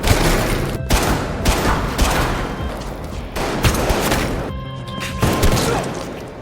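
Rapid bursts of gunfire crackle continuously, loud and dense, like a sustained volley with brief pauses between strings of shots.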